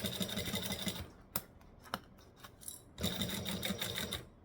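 A sewing machine stitches slowly, a close rhythmic mechanical whir that runs, pauses for a stretch with a few isolated clicks, then starts up again.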